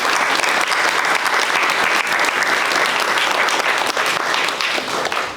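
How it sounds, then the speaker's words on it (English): Loud, dense applause fills the hall at a United States citizenship ceremony, honouring a high school color guard, sustained evenly from start to finish. "Please give them a round of applause"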